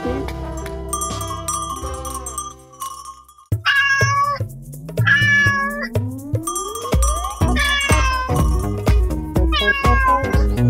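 A cat meows repeatedly nearby, loud rising and falling cries over a cluttered background of music and chimes, with no talking.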